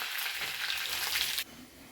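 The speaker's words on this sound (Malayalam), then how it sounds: "കടുക് പൊട്ടിക്കഴിഞ്ഞാൽ നമ്മൾ കറിവേപ്പില കൂടി ഇട്ട് കൊടുക്കുക" Curry leaves hiss and crackle as they drop into hot oil with popped mustard seeds, a tempering for Kerala buttermilk curry. The loud, close sizzle holds steady, then falls to a quieter simmer near the end.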